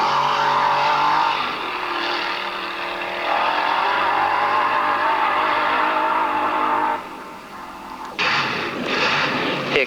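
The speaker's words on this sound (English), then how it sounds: "This is Colin Glass in his Allard-framed 2-litre Bristol engine rail." A 2-litre Bristol-engined dragster with an Allard frame roars at full throttle, its pitch climbing steadily before dropping and surging again as it accelerates hard.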